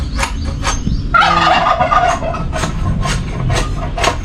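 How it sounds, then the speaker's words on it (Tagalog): A turkey gobbles loudly and close by in one burst of rapid rattling calls, preceded and followed by short sharp clucks over a noisy outdoor background. "Yung ingay ng pabo"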